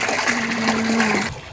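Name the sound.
water flowing into koi pond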